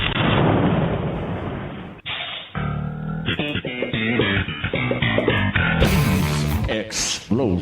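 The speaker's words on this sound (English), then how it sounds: "Explosion." A loud, booming explosion sound effect opens the clip, a dense rumbling blast for about two seconds, followed by a burst of musical stings and effects.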